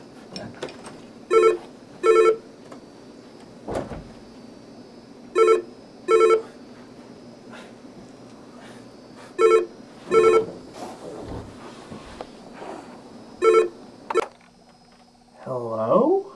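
Telephone ringing in a narrative game set in an apartment, repeated electronic trilling bursts in pairs with long gaps between them, loud and close, with other game sounds in between.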